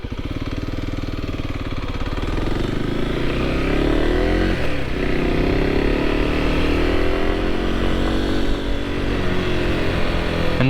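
A Kawasaki KLX 300 supermoto motorcycle riding, its engine droning loudly and steadily from close by and rising gradually in pitch as it accelerates, with no voices.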